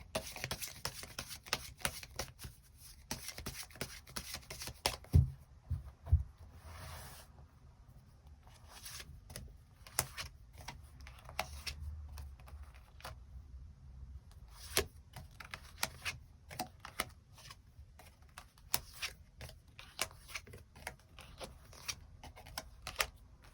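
Tarot cards being shuffled and drawn, a long run of quick papery riffles, slaps and soft rubbing taps up close, with brief pauses between bursts and no talking.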